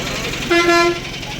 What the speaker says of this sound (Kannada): ಶ್ರೀಶೈಲಂ ಗಾಡಿ ನೋಡಿ ಜಸ್ಟ್ ಬಂದಿದೆ ಗಾಡಿ